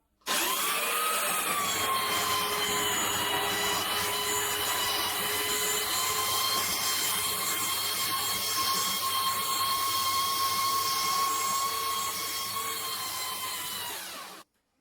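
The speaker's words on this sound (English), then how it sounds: "We've got a very coarse grit sandpaper on here, and you'll see just how quickly it goes through all this dirt and rubbish." A power sander fitted with very coarse grit sandpaper grinds dirt and grime off wood, a loud, close, steady whine starting abruptly, holding constant for about thirteen seconds, then winding down at the end.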